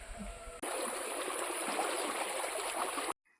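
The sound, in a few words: water flowing in a stream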